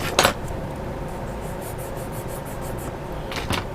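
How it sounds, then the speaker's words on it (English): Soft, steady rasping of light sanding on a small hard plastic model kit part, with a couple of sharper scrapes at the start and end. "I'll just do a little light sanding"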